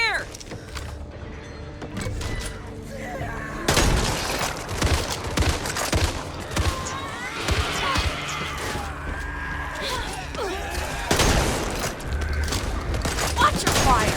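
Video game gunfire from the co-op zombie shooter Back 4 Blood: dense, overlapping bursts of shots that fill most of the clip with loud, continuous crackling, mixed with game effects and talking voices.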